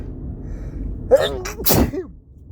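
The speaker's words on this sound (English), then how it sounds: "ah, shit, I fucking sneezed." One person sneezes once, a sharp intake followed by a loud, explosive burst, up close over a faint background hum.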